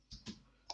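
A few separate key presses on a computer keyboard, quiet and close, as a name is typed into a search field: two taps close together, a pause, then one sharper tap.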